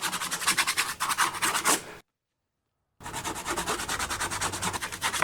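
Oil paint rubbed firmly into the grooves of a canvas for a seascape, a close, steady scrubbing and rasping with a full second-long break in the middle.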